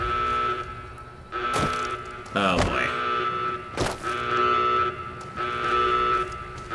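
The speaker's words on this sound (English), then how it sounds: "now that these alarms are going off" Alarms blare in Fallout New Vegas, a loud sustained electronic tone with repeating swells and a few sharp bursts, with someone speaking briefly over it.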